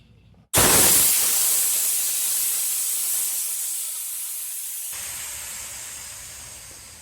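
Compressed air blasting out of the quarter-turn side drain valve on a Stealth 12-gallon quiet air compressor, a sudden loud hiss that starts abruptly and holds steady for several seconds while slowly easing off.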